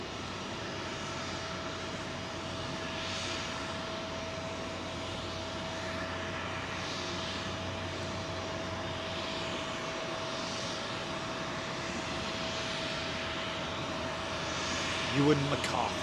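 Boeing 747 jet engines running before departure at London Heathrow, a continuous steady roar with a faint sustained whine, fairly distant, with a brief thump near the end.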